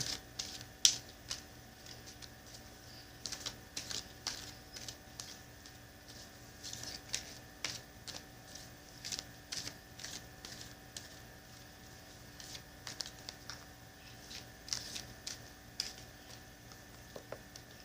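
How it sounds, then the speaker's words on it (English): Soft, irregular papery flicks and riffles of a Sacred Rebels Oracle card deck being shuffled, repeating steadily at close range with no talking. "Now I'm going to shuffle the Sacred Rebels Oracle deck for my Libra friends and viewers."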